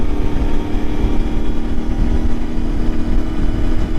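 An Ibex 450 motorcycle engine with an ECU upgrade burbling around 3,200 RPM on a highway ride, a loud, steady, throbbing engine drone with rumbling low pulses throughout.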